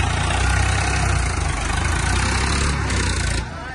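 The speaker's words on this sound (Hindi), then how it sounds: "आप देख रहे हैं स्वराज 744 पे बैक लोडर लगाया हमने।" A Swaraj 744 tractor with a back loader mounted on its hitch runs nearby, its loud, steady engine chugging throughout and easing slightly in the final moment.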